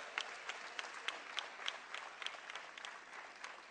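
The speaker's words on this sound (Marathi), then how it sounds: "या पाचही लोकांना आपण जोरदार टाळ्या वाजवावं" Audience at a public event claps steadily, a soft, somewhat distant patter of many hands with small rhythmic peaks, continuing evenly throughout.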